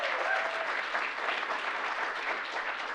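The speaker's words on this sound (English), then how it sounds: "A rousing applause for Audrey." Audience applause at an academic conference's opening remarks, a dense, steady wash of many hands clapping that holds at full strength from start to finish, with no talk over it.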